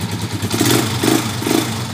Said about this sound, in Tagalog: napakaganda pa ng tunog ng tambutso nyo